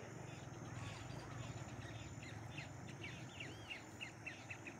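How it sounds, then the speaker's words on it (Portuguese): Small birds, including a great kiskadee, chirp and call in scattered bursts near a reservoir spillway in Cariré, over a steady wash of rushing water and background noise. "E o cântico dos passarinhos."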